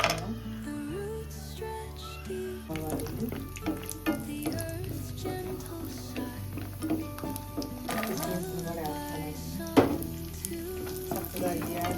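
Cashews fry in hot ghee in a pan for semolina laddus, giving a steady, close crackling sizzle with frequent sharp pops and occasional clinks of stirring throughout.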